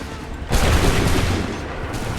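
A musket volley in Assassin's Creed III crashes in as a sudden loud burst of many shots fired together, with a ringing rumble that holds on to the end.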